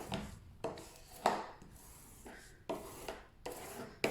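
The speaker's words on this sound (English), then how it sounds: "I try to burnish to my outer edge, all the way to the outer edge, to get rid of any air underneath" A decoration being burnished down onto a folio cover, with a series of quiet, close rubbing and scraping strokes in separate bursts and short pauses between them.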